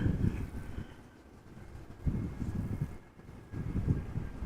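Wind gusting at Amsterdam Schiphol Airport, buffeting the microphone in low rumbling surges that rise and fall with no voices.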